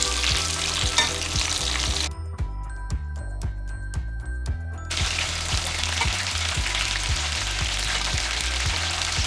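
A whole chicken fries in a pan with a loud, steady sizzle and crackle, close up. Low rhythmic knocks run throughout, and the hiss eases briefly midway before returning at full strength.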